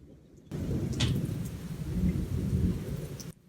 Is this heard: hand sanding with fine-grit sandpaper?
no